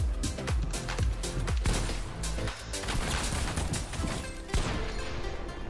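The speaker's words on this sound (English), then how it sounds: "He shot me through the wall." Video game gunfire, a dense string of sharp, loud shots and impacts in quick succession, mixed with crashing game sounds and a busy, cluttered background.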